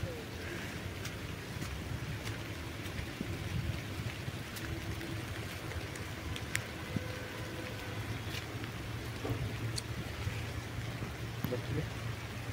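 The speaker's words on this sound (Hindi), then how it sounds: "बारिश में आया है मजा हमको भीगने का" Steady rain falling outdoors during a downpour where a dog is caught in rainwater, a faint, even hiss with scattered sharper drop ticks throughout.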